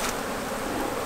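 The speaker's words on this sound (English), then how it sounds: "And then we put some bees in there." Honey bees buzzing at a hive during queen rearing, a dense continuous hum of many insects close by, brief and fairly faint.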